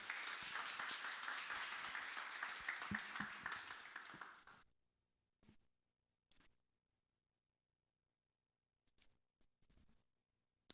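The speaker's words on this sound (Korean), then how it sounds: "큰 박수로 환영해 주십시오." A church congregation at a Wednesday worship service applauds to welcome the pastor, a dense burst of clapping lasting about four and a half seconds before cutting off, followed by a few faint scattered claps and knocks.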